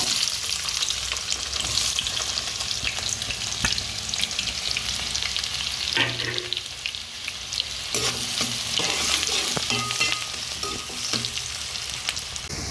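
Onion pieces frying in about five spoons of hot oil, a loud continuous sizzle close by, broken now and then by brief scrapes and crackles.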